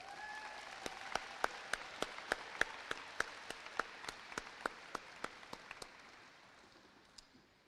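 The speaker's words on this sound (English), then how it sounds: "One more round of applause, please." Audience applause at a high school graduation evening ceremony comes across quietly as sharp, evenly spaced claps in a steady rhythm that gradually fade out, with a faint tone lingering early on.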